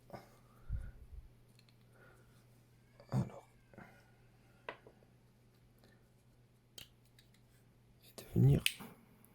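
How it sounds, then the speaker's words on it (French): Scissors snip the ends of paracord at an angle while a bracelet is being braided, giving a few sharp, close cuts separated by quiet, with soft talk in between. "L'idéal pour faciliter le tressage, c'est de couper en biseau les pointes"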